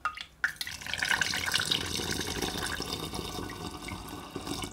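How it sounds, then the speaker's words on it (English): Beetroot juice poured into a sterilised glass demijohn over sugar for homemade beetroot wine, a continuous close gurgling splash of liquid that starts after a short knock and keeps running steadily. "started adding in the beetroot juice"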